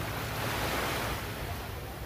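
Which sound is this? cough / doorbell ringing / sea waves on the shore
sea waves on the shore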